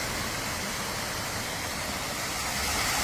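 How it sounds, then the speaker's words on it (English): A waterfall in Leechburg, Pennsylvania pours into the Kiski River, giving a steady, even hiss of rushing water heard at a moderate distance, quiet and unbroken throughout. "Nice new find of a waterfall."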